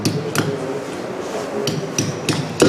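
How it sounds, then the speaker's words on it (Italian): Copper hammer strikes metal during assembly of an F12 engine, several sharp separate knocks at irregular intervals, close and loud, over a low room rumble. "Il martello è fatto di rame."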